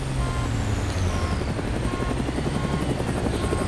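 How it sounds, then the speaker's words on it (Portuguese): Helicopter in the military game ARMA 2 (Takistan map) drawing near, a loud steady rotor chop with a rising whine above it and a faint repeating beep in the background. "Ó, tá vindo helicóptero aqui."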